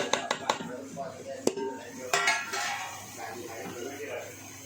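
A utensil scrapes and clinks against a pot or bowl while spices are mixed into boiled potatoes for spring roll samosa filling, with a few sharp knocks at the start, and a voice talks over the stirring.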